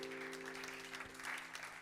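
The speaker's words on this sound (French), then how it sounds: "Est-ce qu'on peut acclamer la parole du Seigneur?" A church congregation applauds in a dense, steady wash of clapping at moderate distance, with a low sustained organ or keyboard hum underneath throughout.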